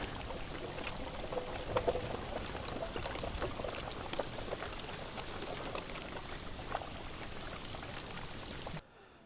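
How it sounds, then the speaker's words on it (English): River water churns and gurgles, breaking up ice with scattered knocks and clinks of ice chunks hitting each other, steady throughout before cutting off, in Theodore Roosevelt National Park. "You can hear the water just kind of breaking up the ice and the ice chunks hitting each other."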